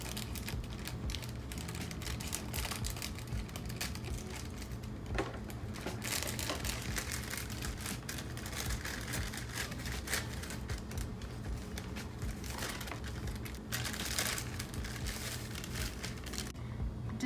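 A cake mix package is snipped open with scissors and crinkled, with rustling, crackling plastic and dry powder pouring into a bowl, a continuous close, busy crunching texture.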